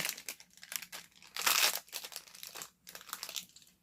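Star Wars Doorables Series 2 packaging being ripped open, crinkling and tearing foil-like plastic in irregular close bursts, one louder rip in the middle.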